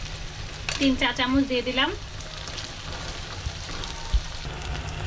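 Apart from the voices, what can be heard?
ginger, garlic and onion paste frying in pan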